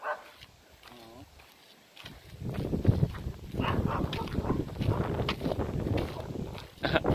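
A dog barks excitedly a few times while people talk nearby, with some wind noise in the background.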